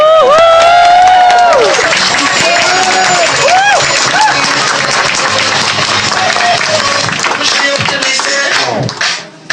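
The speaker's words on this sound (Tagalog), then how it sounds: "Bigyan natin ng malakas sa palakpak." Loud, dense applause from a large audience at a business presentation fills the room, steady and sustained, with a few voices and whoops cutting through before it fades at the end.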